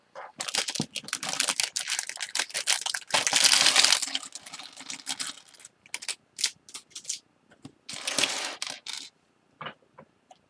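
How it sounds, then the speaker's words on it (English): Plastic LEGO parts bags crinkle and rustle in sharp irregular bursts, with loud sustained crackling stretches separated by short gaps and small clicks, close to the microphone with no talking. "Bag crinkling is loud."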